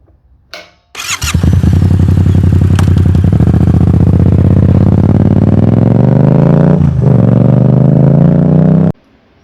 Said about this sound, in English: that's the sound of my V-twin motorcycle.